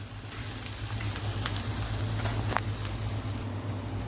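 Tempering for amla coconut chutney sizzles in a pan, a steady close frying crackle with a few sharper pops over a low stove hum.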